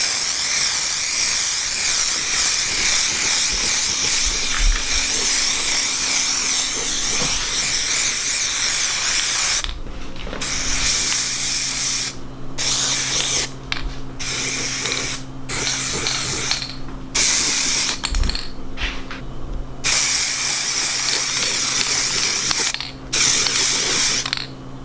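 Plasti Dip aerosol sprayed onto a car mirror in a series of hissing bursts, a long continuous spray first, then shorter sprays broken by brief pauses, loud and close with no talk.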